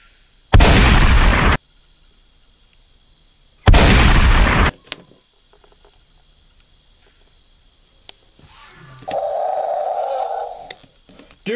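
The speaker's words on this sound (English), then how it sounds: "Go ahead and shoot the raptors" Two loud, sharp bursts of gunfire sound effects ring out a few seconds apart in a Jurassic Park toy stop-motion scene, followed by a short tonal electronic tone near the end, with no speech.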